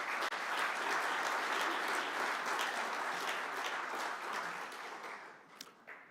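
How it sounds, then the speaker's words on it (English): A crowd at the EuroLeague Women and EuroCup Women draw ceremony breaks into steady applause, dense and sustained for several seconds before thinning toward the end, with no talk over it. "and a round of applause"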